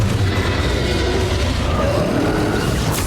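Confringo, a fire spell in the video game Hogwarts Legacy, erupts as a loud, rumbling explosion with a deep boom that fills the short moment, with no voices.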